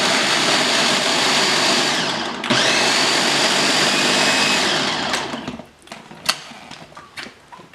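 A food processor blends chickpeas into a coarse falafel mix in a loud, steady whir that pauses briefly, runs again for a few seconds and then cuts off, followed by light clatter.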